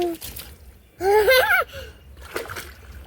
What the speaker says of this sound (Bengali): মেয়ে এখানে সুইমিং পুল স্নান করছে